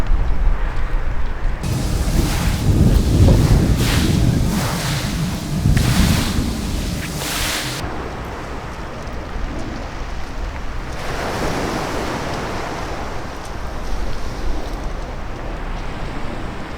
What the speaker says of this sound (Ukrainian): Я сподіваюся, що вам не дуже заважали хвилі